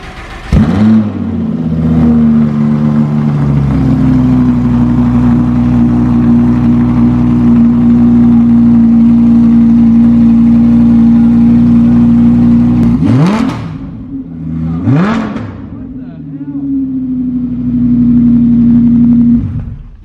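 A high-performance car engine, tuned to over 700 horsepower with a Fab Speed exhaust, starts with a bark and holds a loud, steady high idle, then revs sharply twice before returning to idle.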